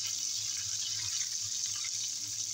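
Curry leaves sizzle in hot oil for a chana dal tempering, giving a steady, loud hiss that runs unbroken throughout with no talk.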